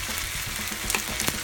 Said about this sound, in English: Just gonna give it a quick mix